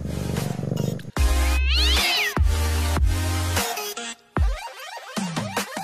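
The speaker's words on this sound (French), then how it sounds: "On a encore croisé beaucoup de chats." Cats meow along a hiking trail on the Sentier des Dieux near Positano on the Amalfi Coast: loud, close, drawn-out meows in a series, some rising and falling, with brief pauses between calls and no talking.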